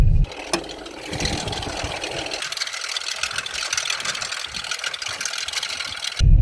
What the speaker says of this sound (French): Ma voiture fait un bruit terrible.